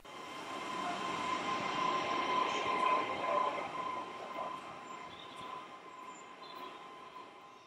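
A passenger train for Grantham rumbles steadily at a station, with a sustained metallic wheel squeal ringing over the low roar, loud at first and easing off slightly over several seconds; no voices.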